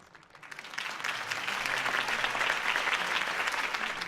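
Crowd applause during a political campaign speech in Batman: The Telltale Series, swelling up from quiet into a sustained, even roar of clapping.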